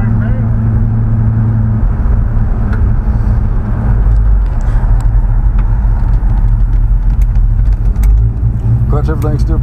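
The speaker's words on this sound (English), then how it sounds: "What was that, third gear that's pulling like that?" A 1955 Chevy with a swapped engine pulls hard in third gear, a loud, steady low rumble heard from inside the car with a constant engine drone throughout.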